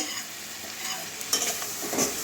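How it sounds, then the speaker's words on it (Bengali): Fried hilsa fish head being stir-fried with spices and green chillies in oil, a continuous sizzle with a couple of spatula scrapes and clatters up close. "মশলার সঙ্গে একটু কষিয়ে নেব"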